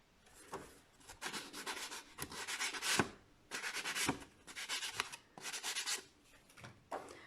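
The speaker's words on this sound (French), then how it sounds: "Je vais juste poncer un petit peu mon bord." Hand sanding along the edge of a workpiece, a close rasping rub in repeated strokes of about half a second to a second, with short pauses between bursts.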